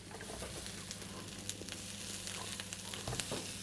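Onions and mushrooms fry in a wok with plenty of fat, giving a steady close sizzle with scattered crackles and pops and no talking.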